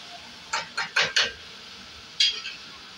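Chopped kurdu greens being stirred in a pan, several short scraping clatters of a spoon against metal in quick succession, then a pause and one more scrape, close and clear with a faint background hiss.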